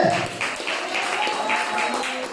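Church congregation applauding together, a continuous wash of claps filling the room at steady loudness, with a faint voice or tone underneath.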